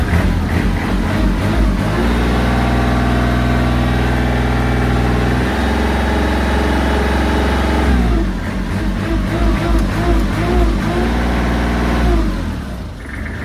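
A used Kubota L3408 tractor engine, over ten years old and fitted with a blade and harrow, starts and settles into a loud, steady diesel idle nearby, with a couple of shifts in engine pitch along the way.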